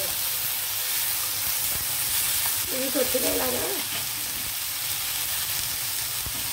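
Capsicum and tomato cooking in oil in a pan for a Telugu capsicum roti pachadi, giving a steady close sizzle and hiss throughout, with a brief voice speaking midway.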